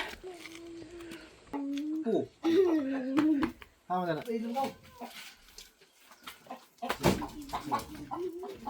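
Grandmother's chicken clucking at a farmyard in the rainy Korean countryside, a few close, rising clucks and squawks in short bursts mixed with voices talking nearby.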